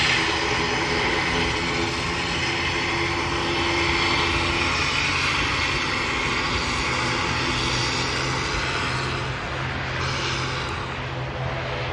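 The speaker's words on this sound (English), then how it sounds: "Aer Lingus ATR 72 coming in from Dublin" An Aer Lingus ATR 72 turboprop airliner arriving from Dublin at Manchester Airport gives a steady, loud propeller and engine drone that holds without a break, with a broad roar and low hum.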